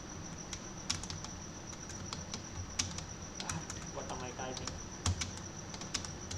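Fingers type steadily on a computer keyboard while someone codes, producing a close, continuous patter of clicks with occasional sharper key strikes and faint background murmur.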